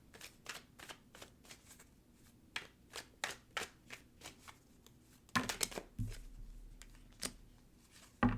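Tarot cards are shuffled by hand at close range, a run of crisp, regular riffling snaps followed by a louder burst of card handling and flicks as cards are drawn, with no speech.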